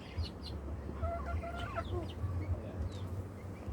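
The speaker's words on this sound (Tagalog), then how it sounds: "Manok mga alaga niya, manok pato" Chickens cluck and chatter close by over a steady low rumble, with a rooster-like call mixed in.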